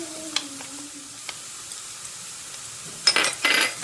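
Tomato paste starts frying in a pan: after near-quiet with a few faint taps, two short, sharp bursts of sizzling hiss sound up close near the end.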